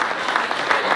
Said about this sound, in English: I think they need a round of applause as well.